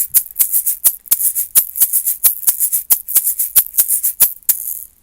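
Samba swing rhythm of uneven, wonky sixteenth notes played on a shaker-like percussion instrument: a steady stream of crisp, bright hits with a lilting unequal spacing, loud and close with no voices.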